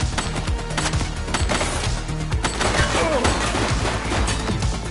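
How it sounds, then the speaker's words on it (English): Gunfire from a suspect in the police video game The Precinct: loud, rapid bursts of shots and crashing impacts fill the scene continuously, with no quiet gaps. "She's shooting!"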